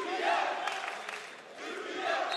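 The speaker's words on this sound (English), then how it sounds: "Now the crowd go into full voice." A wrestling arena crowd at the 2024 European Championships gold medal match cheers and chants in a steady, distant roar, swelling and dipping over a couple of seconds.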